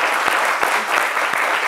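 Audience applause for the president of the Agir Ensemble pour l'Afrique foundation, a steady dense wash of many hands clapping close by, holding even and loud throughout with no voices on top.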